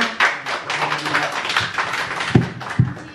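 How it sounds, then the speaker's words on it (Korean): An audience at a book author talk and signing event claps steadily for a few seconds, with a couple of louder thumps near the end as the applause fades. "뜨거운 박수로 환영합니다"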